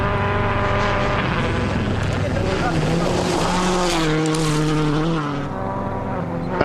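A rally car on softer Michelin tyres roars along a sandy gravel stage at Rally Argentina 2005, its engine loud and close, pitch climbing and dropping through gear changes, with a commentator talking over it.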